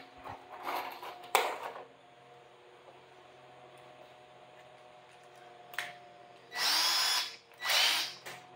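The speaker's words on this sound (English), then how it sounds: "what I'm going to do is drill right in the middle of this thing." Power drill fitted with a 3/16 bit, heard in a few short bursts: brief whirs and clicks early, then two louder, sustained drilling runs near the end with quiet handling between.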